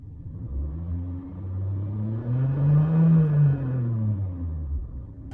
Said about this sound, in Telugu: ఇంజిన్ రేట్ చేస్తాను, ఒకసారి వినండి.